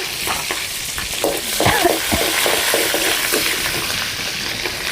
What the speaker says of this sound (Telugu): ఇప్పుడు సన్నగా కట్ చేసుకున్న పచ్చిమిర్చి వేసేసుకుందాము